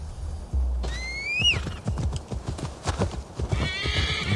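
A horse in Assassin's Creed Valhalla whinnies with a rising, wavering neigh, then its hooves clip-clop in a steady galloping rhythm, close and clear, with another short whinny near the end.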